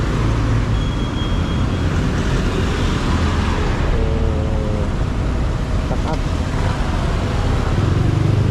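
Road traffic at Junction 1 in Puerto Princesa, a steady, loud wash of car and motorcycle engines and tire noise close by, continuous with a brief horn-like tone.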